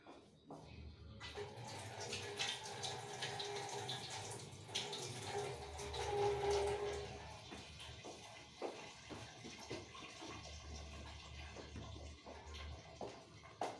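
Green chilli peppers being rinsed under running tap water for pickle: a quiet, continuous splashing flow with small drips and shifting spatter as the peppers are handled.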